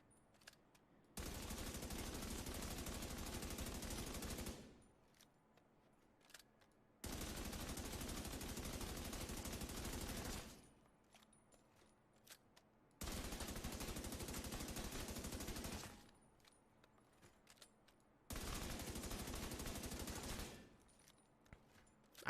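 Sustained automatic fire from a P416 rifle in The Division 2, four long bursts of several seconds each separated by short pauses, loud and dense, with faint game sounds in the gaps.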